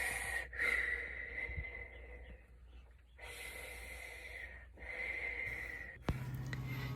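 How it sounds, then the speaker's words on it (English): Deep yoga breathing aboard a sailboat: several audible inhales and exhales with snort-like and hissing breaths in close succession, ending with a sharp knock. "Oh, we can breathe, see?"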